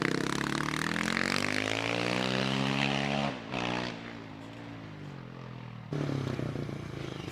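A 638cc KTM motorbike climbs the Prescott hill climb course, its engine note rising hard through the gears, dropping briefly at a shift and revving again as it passes close by.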